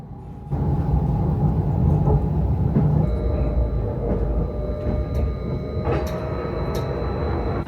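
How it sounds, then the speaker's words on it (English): A new, quiet passenger train rumbles along steadily from inside the carriage, with a low continuous roar and occasional faint clicks and tones. "it's a lovely new train today, and it's been really quiet"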